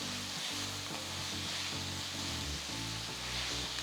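Finely chopped tomatoes are stirred into frying onions and ginger garlic paste in a pan, giving a steady, close sizzle with soft stirring movements and a low background hum.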